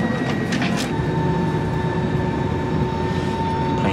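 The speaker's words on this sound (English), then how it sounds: "Plane finally moving." Inside a passenger jet cabin on a trip to Jamaica, a steady, loud engine drone and whine fill the air as the plane begins to taxi, with faint rattles and clicks over the hum and no talk.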